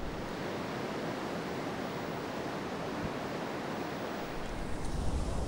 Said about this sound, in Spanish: Estamos con oleaje 8, muchachos. Oleaje 8, un oleaje con algo de golpe.